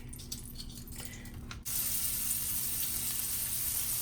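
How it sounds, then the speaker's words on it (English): Beef hits a hot pan with a sudden loud sizzle that continues steadily after a quieter hiss, browning for a stew. "If you hear it sizzle, it's good to go."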